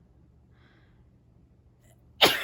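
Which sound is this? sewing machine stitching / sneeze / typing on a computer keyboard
sneeze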